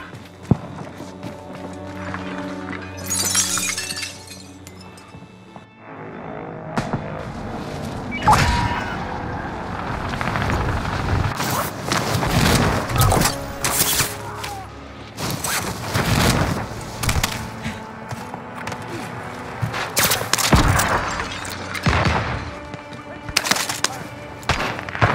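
Gunfire in Call of Duty: scattered shots and bursts with explosive impacts, loud and busy over a constant battle din, with in-game voices talking throughout.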